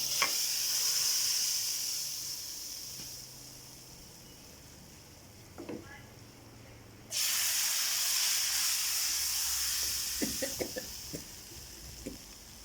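Hot oil sizzles steadily, then a loud burst of fierce crackling hiss erupts as the tempering is poured onto kadhi (yogurt curry), with a few clinks of a utensil.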